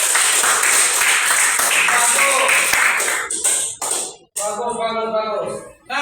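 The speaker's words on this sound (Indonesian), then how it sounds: "Oke, tepuk tangan dulu." Students in a classroom clap together on cue, a brisk burst of rhythmic clapping that thins out, followed by voices talking.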